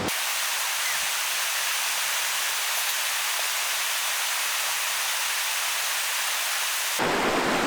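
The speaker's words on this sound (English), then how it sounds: "it's starting to rain more and more and more" Heavy rain pouring with a deep thunder rumble under the broad roar, loud and constant for several seconds before an abrupt change near the end.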